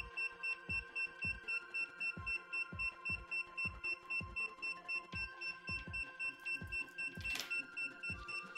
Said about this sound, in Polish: po chwili włącza się pierwszy alarm